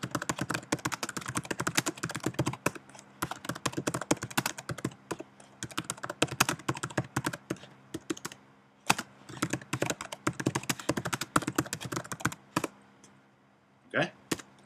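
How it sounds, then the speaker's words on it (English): Typing on a computer keyboard, quick irregular bursts of close clicking keystrokes with short pauses between runs, someone speaking intermittently over them. "I'll type in WordPress."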